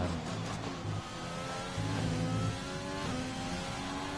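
Race car engine in a racing video game on the Austria circuit, revving and accelerating steadily with rising harmonic pitch sweeps, loud and continuous throughout without talk.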